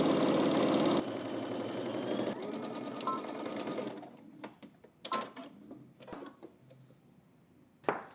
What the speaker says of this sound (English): We're going to stitch across the shoulders using 5/8 of an inch seam allowance.